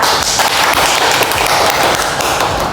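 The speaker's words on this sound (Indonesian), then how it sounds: "Beri aplaus kepada Alia." Classroom applause for a student named Alia, a burst of many hands clapping together, loud and steady for a few seconds with no voices over it.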